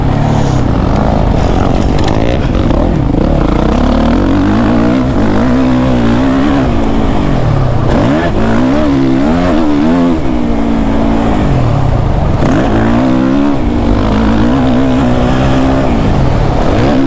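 A Suzuki RMZ 450 four-stroke dirt bike engine drones loud and close while being ridden, its pitch rising and falling in repeated surges of throttle without high revving, continuous for the whole stretch with no talk.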